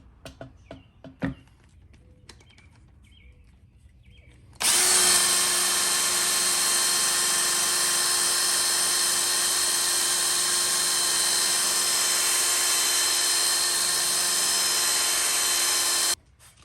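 Handheld power tool whines steadily and loudly while polishing a scratched C5 Corvette tail light lens, a high sustained buzz that starts abruptly after a few quiet handling sounds and runs unbroken for over ten seconds.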